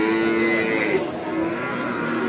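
Cattle low at the Jatirogo livestock market, a loud, close moo held for about a second over a background of crowd murmur.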